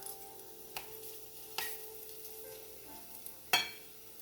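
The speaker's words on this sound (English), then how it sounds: "now I'm going to lay the banana in here, kind of space them out like that to let them cook" Black plantain slices fry in a pan with a faint, low sizzle and a few soft ticks and taps from the cookware.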